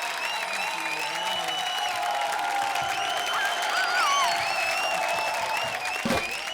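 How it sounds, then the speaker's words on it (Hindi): A studio audience at a comedy show claps loudly and steadily, a dense wash of applause with scattered whoops and cheers, lasting several seconds without a voice over it. "जोरदार तालियां"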